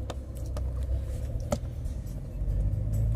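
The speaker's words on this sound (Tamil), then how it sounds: "இப்போ நம்ம வண்டியை ஓட்டி பார்க்கலாம்." A car's engine hums low and steady as it is driven, with light clicks and a thump over the rumble. It may be petrol or diesel.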